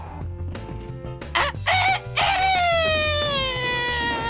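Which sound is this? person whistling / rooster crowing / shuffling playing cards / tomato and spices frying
rooster crowing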